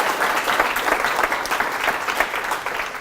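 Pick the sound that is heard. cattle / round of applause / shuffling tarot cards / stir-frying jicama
round of applause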